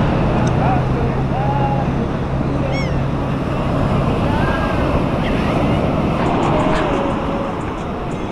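Ocean surf on Clearwater Beach, Florida, on a rough day makes a loud, continuous wash of breaking waves with gusty wind rumble on the microphone, and faint higher calls can be heard now and then.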